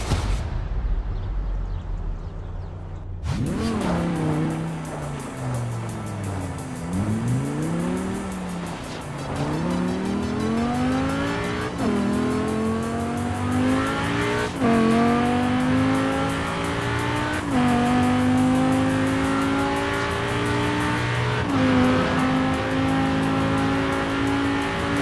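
A stunt car in Forza Horizon 4 revving and accelerating through repeated gear changes, engine pitch climbing and dropping over and over, with tire squeal, loud and close throughout.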